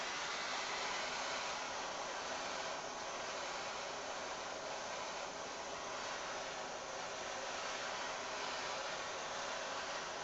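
Kitchen blowtorch moved in smooth circles to caramelize a sugar topping on creme brulee, giving a steady, close, continuous roaring hiss with no pauses and no talk.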